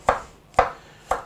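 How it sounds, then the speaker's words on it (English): Three evenly spaced thunks of an ordinary steel kitchen knife slicing through skin-on potatoes onto a cutting board, close and crisp, each cut a short sharp knock with a brief tail, no voice over them. "So we cut the potatoes in small"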